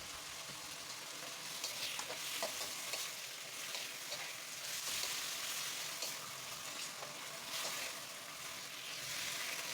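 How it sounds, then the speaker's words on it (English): Honey-glazed pork strips with tomato ketchup sizzle in a pan while being stirred, a steady bright frying hiss with soft scraping strokes, no talking. "give it a quick stir to mix well"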